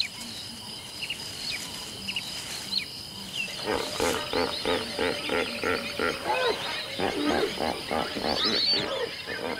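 A small pride of lions in the wild gives out a run of deep, rhythmic roars and grunts, close and loud, over a steady background of insects and birds.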